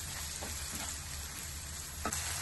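Tomatoes with ginger, chilli and garlic paste sizzle steadily in a pan for pav bhaji, a constant frying hiss with a few soft stirring scrapes, no talking.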